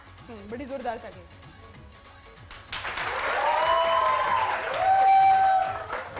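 Loud audience applause at a TV Eid Milan show breaks out after a few seconds of talking, building into a thick, sustained round of clapping mixed with cheers and voices.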